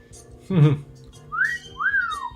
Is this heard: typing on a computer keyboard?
no